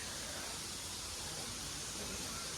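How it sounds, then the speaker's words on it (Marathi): Water runs steadily along a small channel beside a village temple and on into the river near Wai, Satara. It makes a continuous, even broadband rush at moderate level, with no talk over it. "हा पाणी चाललंय इकडून असं मस्त आणि ते जाऊन मिळते ते नदीला"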